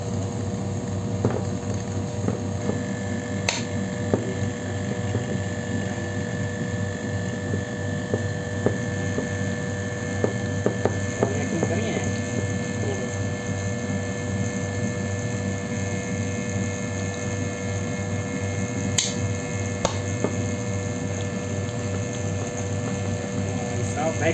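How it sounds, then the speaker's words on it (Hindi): A powerful vacuum pump runs steadily throughout, a loud continuous mechanical drone with faint clicks and rattles riding on top, with no pauses. "देख लो आपने इतना तगड़ा वैक्यूम पंप है।"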